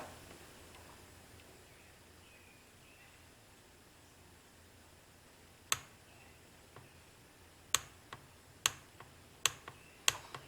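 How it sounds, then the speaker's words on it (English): Craftsman 3/8-inch digital torque wrench clicking as it reaches set torque: a few sharp, close clicks arriving at irregular intervals after a quiet stretch of faint room hiss. "When you hit your torque, it'll click"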